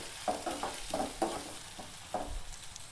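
Chana dal and okra frying with turmeric in a pan, a soft continuous sizzle broken by several quick spoon scrapes and stirs, close but fairly quiet, no talking.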